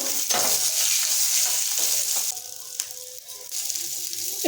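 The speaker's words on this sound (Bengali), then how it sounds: "পেঁয়াজ কলিকে আমরা এখানে মিনিট তিনেকের মতো ভাজা ভাজা গরম তেলে রেখে দেব" Loud, steady sizzling of spring onions frying in hot oil, continuous throughout with a few light stirring scrapes toward the end.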